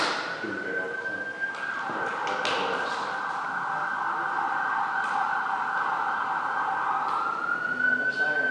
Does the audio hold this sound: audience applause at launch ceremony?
no